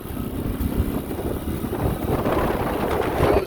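A 1980 Honda C70 Cub motorcycle riding in third gear, a steady low engine drone mixed with heavy wind rush on the microphone throughout.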